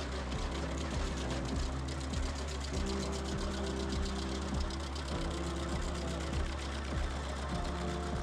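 Tractor-driven stump grinder chewing through stumps in wet, muddy ground, a steady, close mechanical engine drone with rhythmic knocking pulses that holds on throughout without talk.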